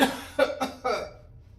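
Three or four harsh coughs in quick succession, close and loud, then fading to quiet.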